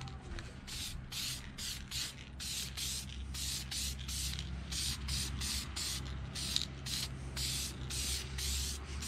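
Thin coat of spray paint applied to a 14 bolt truck axle during a one-ton axle swap, heard as a long run of rapid short hissing bursts, close and steady, alone over a low background hum.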